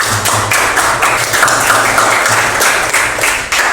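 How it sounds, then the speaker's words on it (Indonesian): A classroom group claps for group 2 after a lesson, a dense burst of many hands clapping together, loud and close, with quick overlapping slaps that keep going throughout. "tepuk tangan untuk kelompok 2."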